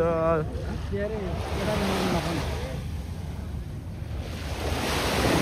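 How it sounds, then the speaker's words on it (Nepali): Waves break and wash against the shore in a steady, noisy roar mixed with wind buffeting the microphone, with faint voices briefly audible at the start. "यस्तो पानी चाहिँ राम्रो छाल हान्छ"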